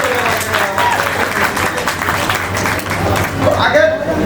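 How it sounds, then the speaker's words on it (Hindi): Loud, steady applause from an audience of content creators at a creator meetup in Kichha, Uttarakhand, fills the whole stretch, with crowd noise and voices mixed in. "पहले तो एक बार अपने लिए ताली बजा दो"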